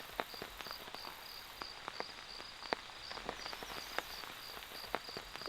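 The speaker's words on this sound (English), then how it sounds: "It is raining out there again." Light rain pattering on a tarp at a high-mountain campsite under a forest canopy, with scattered soft ticking drops falling irregularly over a quiet background and a steady faint insect-like hiss.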